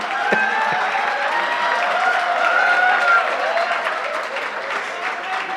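Steady, full audience applause from a seated crowd at a comedy or poetry stage show, continuous clapping with light cheering mixed in.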